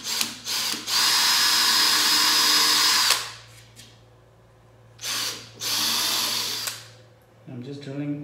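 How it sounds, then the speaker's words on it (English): Power drill boring a series of holes in thin wood for a magnetic mosquito screen frame, two loud sustained runs of a few seconds each with short pauses and brief quieter handling noise, close to the microphone. "I'm just drilling all of them"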